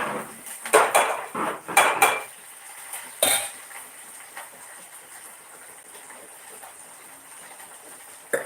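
Steel utensils and pans clatter in a home kitchen while dosa is being made, a few loud sharp clanks bunched in the first seconds and then quieter scrapes over a steady background hiss.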